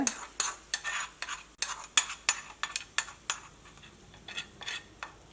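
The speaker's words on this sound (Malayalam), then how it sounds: "ഇത് മിക്സ് ചെയ്യട്ടെ കേട്ടോ" A spoon stirs and mixes chilli chutney in a bowl, giving a run of quick, sharp clinks and scrapes in an uneven rhythm, close and clear.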